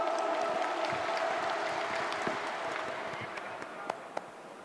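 Audience applause at a 2023 village heads' (mukhiya) conference, a steady dense wash of clapping from a crowd that holds at a fairly even level and slowly fades, with a few sharper individual claps near the end.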